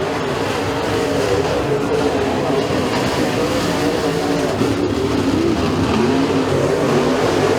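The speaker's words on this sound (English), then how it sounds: "the race right now on the racetrack is for third between Kaczynski and Estrich" Race cars roar around the track during heat races at Freedom Motorsports Park, a dense, steady engine drone with rising and falling revs filling the whole stretch at constant loudness.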